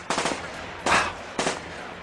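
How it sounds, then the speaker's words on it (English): Machine gun fire in a World War 2 tank combat wargame: three short, loud bursts of rapid shots separated by brief pauses, alone with no talk. "with the left machine gun open fire first"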